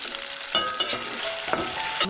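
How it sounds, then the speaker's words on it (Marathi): Garlic and onion fry in rendered crab fat, a continuous sizzle with a few sharp stirring scrapes and clicks from the pan. "खेकडीची चरबी आहे ना ती पूर्णपणे भाजून घ्यायचं आपण टाकतो त्याच्यामध्ये लसूण त्याच्यानंतर आपण कांदा टाकूया"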